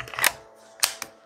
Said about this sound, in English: You heard it click back in place.